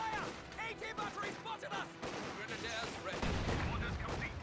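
ZIS anti-tank gun firing in a World War II video game battle against a Panzer II, with sharp gunfire blasts amid rattling combat noise under a talking voice.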